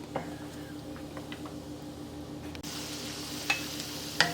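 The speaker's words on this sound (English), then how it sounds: "I'm gonna fry this cashew, and the heat is over medium low" Cashews fry in about half a cup of oil over medium-low heat, making a light, continuous sizzle. A few soft knocks and clicks sound over it, and the texture brightens partway through.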